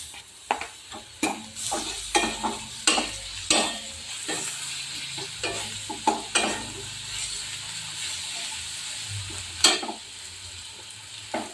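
Garlic paste stirred into sizzling onions in a pan: a constant frying hiss punctuated by sharp, irregular spoon scrapes and clacks, loud and close with no voices.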